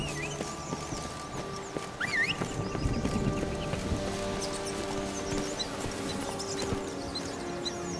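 Horse hooves clip-clopping in the video game The Witcher 3: Blood and Wine, a steady muffled trot under a continuous ambient game soundscape with faint bird-like chirps.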